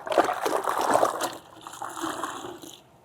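Water rinsing over a ceramic-coated car during a maintenance wash, a steady splashing and trickling flow that fades into softer dribbling toward the end.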